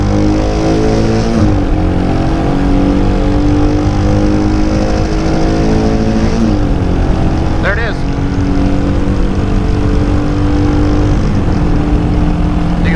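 A Royal Enfield Shotgun 650 or Hunter 350 motorcycle revs hard through its gears, the engine note climbing repeatedly and bouncing off the rev limiter, loud and close with steady wind rush.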